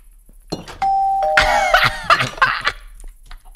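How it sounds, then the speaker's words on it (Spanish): A doorbell chimes in the Minecraft game, one sustained electronic ding-dong tone followed by a rapid cluster of bright bell-like notes, loud and close, with a brief throat sound nearby. "solo querías tocar el timbre"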